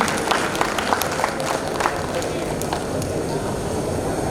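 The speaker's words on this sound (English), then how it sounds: "So let's have a big round of applause for these students again" A classroom audience gives students a round of applause, a dense, steady wash of clapping lasting several seconds with a few sharper individual claps standing out.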